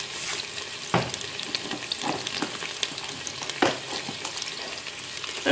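Cubed potatoes browning in olive oil in a Cookeo multicooker, a soft continuous sizzle broken by sharp scrapes and clacks of a spatula stirring at irregular intervals.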